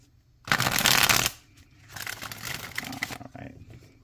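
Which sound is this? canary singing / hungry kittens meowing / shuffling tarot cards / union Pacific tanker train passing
shuffling tarot cards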